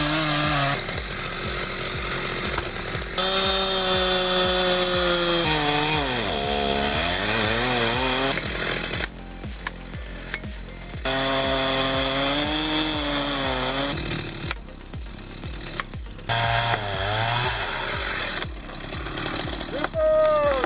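Chainsaws cutting trees during logging work roar loud and close, their engines revving up and down in long continuous bursts with a few short dips between cuts.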